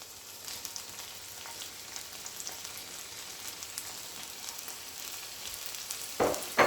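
Peppers and onion frying in a pan over medium-high heat, a dense continuous sizzle with crackles and a few louder scraping stirs near the end.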